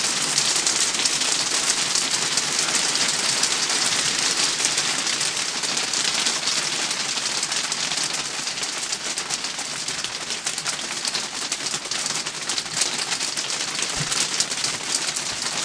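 Steady rain pattering on a surface outdoors, a continuous dense hiss of drops with no let-up, loud and close throughout.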